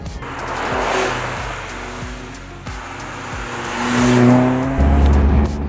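A Caterham Seven sports car's engine blips and revs through a downshift, a steady close roar that swells and drops with a rhythmic pulsing drone, alone without voices.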